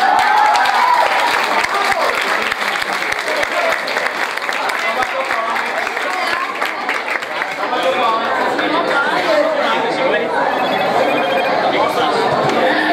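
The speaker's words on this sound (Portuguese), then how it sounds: "Palmas." An audience claps loudly and steadily while chatter and excited voices mix in, the clapping thinning out in the second half as talk and crowd noise take over.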